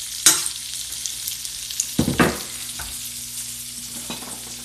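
About a cup of vegetables sautés in a pot for homemade potato soup, a close sizzle broken by a few sharp scraping stirs and clatters of the spoon, with no voices.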